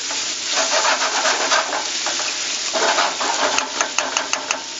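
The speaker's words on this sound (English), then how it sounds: "I used some sesame seed with a little bit of vegetable oil, just because sesame oil is kind of strong" Garlic sizzling in a pan of sesame and vegetable oil, a loud, steady crackling fry with scattered sharp pops and a few utensil scrapes, close and continuous with no talk.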